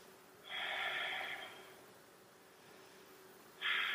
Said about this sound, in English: take a deep breath in here